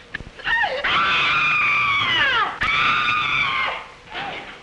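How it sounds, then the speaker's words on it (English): Two long, loud, piercing screams in a row, each sustained for over a second, with a brief break between them. "Did I hear somebody scream?"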